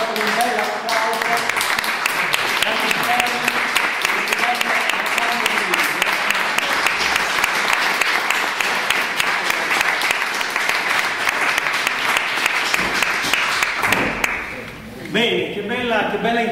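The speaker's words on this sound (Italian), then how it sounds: "E adesso proseguiamo con un bel applauso." An audience at a book presentation by Armando Siri breaks into long, loud, sustained applause, a dense roar of many hands clapping with some voices mixed in, easing briefly near the end before resuming.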